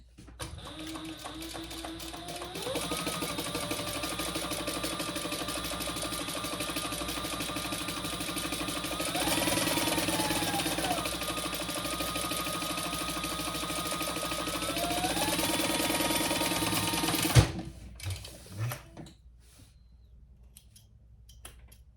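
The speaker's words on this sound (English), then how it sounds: "now let's just baste around" Sewing machine stitching a basting line around the edge of a Pebble Mini Sling bag, a steady close motor whir with slight pitch shifts, running continuously for about seventeen seconds before stopping abruptly, followed by faint handling clatter.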